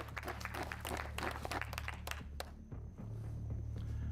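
A group claps for a couple of seconds, a dense burst of applause that fades out, leaving a low hum with faint voices.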